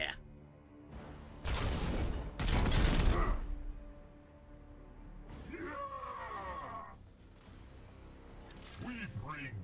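Burst of support gunfire in the Warhammer 40,000 Chaos Gate – Daemonhunters video game: a loud, dense volley of shots around two to three seconds in, followed by softer game effects and a voice talking.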